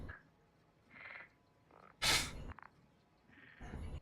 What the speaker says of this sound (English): You do indeed hear frogs.